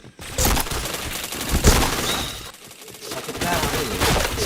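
Rapid bursts of automatic gunfire from a shooting video game, dense crackling volleys that keep coming with brief gaps, loud and close under excited talk from players.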